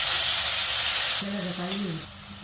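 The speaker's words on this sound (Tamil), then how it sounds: "சிக்கனை போட்டு வதக்கணும்." Steady sizzling of chicken sautéing in a hot pan, with a brief voice sounding partway through before the sizzle continues alone.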